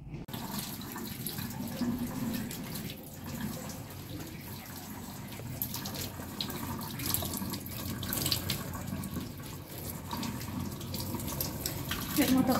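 Tap water runs steadily into a kitchen sink while vegetables are rinsed, a continuous close splashing hiss over the whole stretch with faint background voices.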